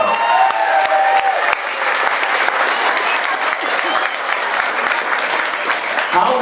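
A crowd at an old-fashioned cookout in Costley Mill Park claps loudly and steadily in response to a political speech, dense applause with a few distinct sharp claps and faint voices mixed in.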